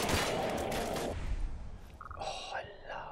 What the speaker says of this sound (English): Oh, I love pulse shots.